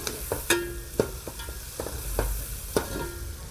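Tomatoes, green chillies and spices cook in oil with a soft, steady sizzle. Several distinct clinks and scrapes of stirring come at irregular intervals, close by and with no speech.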